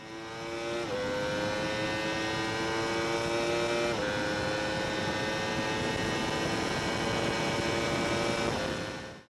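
A 2017 998cc liquid-cooled inline four-cylinder motorbike engine screams at high revs, holding a loud, sustained whine that steps up through quick gear shifts, heard alone.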